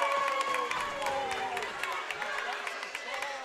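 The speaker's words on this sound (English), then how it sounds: "Crowd's getting into it over here. Chanting for defense to St. John's home crowd." St. John's home crowd at a basketball game cheering and chanting loudly and continuously, a dense indoor roar with overlapping voices throughout.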